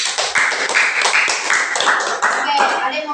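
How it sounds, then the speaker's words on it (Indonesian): A classroom of students claps for group B after their presentation in a physics micro-teaching lesson on moment of inertia, the dense, close, steady applause filling a few seconds with some chatter mixed in. "Tepuk tangan dulu buat kelompok B"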